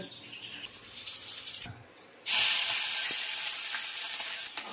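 Vegetables, including brinjal, frying in oil for undhiyu with a loud, steady sizzle that drops briefly, then surges back stronger and keeps crackling close by.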